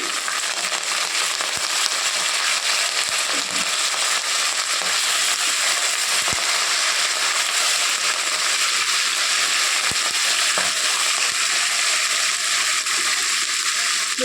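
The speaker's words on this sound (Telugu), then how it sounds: "ఎండుమిరపకాయలు వేసుకుంటున్నానండి. 3 రెమ్మల కరివేపాకు అండి." Dry red chillies and curry leaves sizzle in hot oil for a potato fry, a steady dense crackle and hiss lasting throughout, close and fairly loud with no talking.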